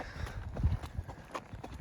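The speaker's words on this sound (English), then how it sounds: "I'm doing this on horse." Horse hooves clip-clop on a dirt trail during an afternoon ride at an open-space park in Douglas County, Colorado, a short run of quiet, close, uneven steps.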